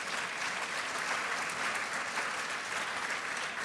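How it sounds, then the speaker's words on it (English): Dense, steady applause from a large symposium audience honoring two guest speakers fills the room at moderate volume, an even wash of many hands with no voices over it. "And one more round of applause for Shirley and for Anne."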